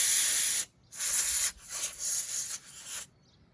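Compressed air blasts debris off the carburetor of a Craftsman Briggs & Stratton Intek pressure washer engine, several sharp, loud hissing bursts with brief pauses between them.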